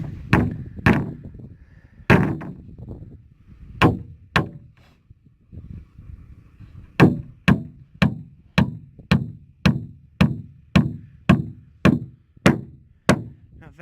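A hammer drives nails into a wooden floor in an off-grid solar power house build: loud, close, sharp blows, irregular at first and then a steady rapid run of evenly spaced strikes, with no talk.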